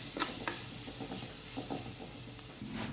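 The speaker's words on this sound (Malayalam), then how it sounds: "ഇളക്കുക." A spoon stirs a drumstick stir-fry seasoned with turmeric and chili powder in a hot pan, a steady sizzle running throughout with soft repeated scraping strokes, close and fairly quiet.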